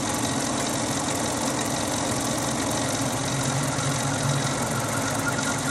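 A metal-cutting machine makes the initial 230-thousandths-of-an-inch cut on trumpet finger buttons, giving a steady, loud mechanical drone with a constant hum that does not let up.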